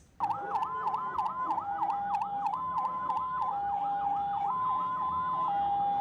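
An ambulance siren wails in a steady, rapidly cycling up-and-down pattern, loud and close, with a steady tone beneath it and faint road traffic in the background, no voices.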